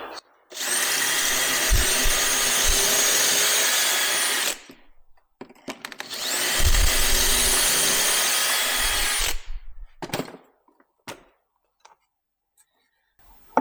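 A power drill whines loudly in two long bursts of about four seconds each while drilling holes in a campervan fit-out, with short pauses between, followed by a few faint knocks.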